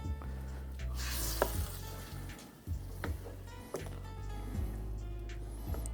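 A wooden spoon stirs chicken adobo in a pan, scraping and knocking against the pot now and then, over a continuous bubbling sizzle and a low background hum.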